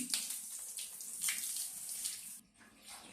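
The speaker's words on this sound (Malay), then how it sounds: "Ada air, masuk, masuk lagi air baru." Tap water splashing into a toilet tank, a steady close hiss and gurgle of flowing water that briefly dips near the end before resuming.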